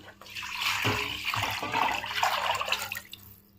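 Water pours steadily into a cooking pot for egg biryani for a few seconds, a continuous splashing rush close up that tapers off at the end.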